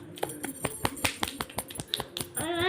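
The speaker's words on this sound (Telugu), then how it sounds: "క్లాప్స్ కొట్టండి అందరూ." Schoolchildren in a classroom clap at a teacher's request, producing a scattered, uneven string of sharp hand claps rather than a unified round. A young voice rises briefly at the end.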